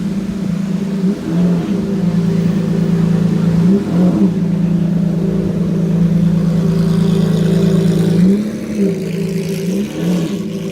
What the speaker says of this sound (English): look at that Maserati that just pulled in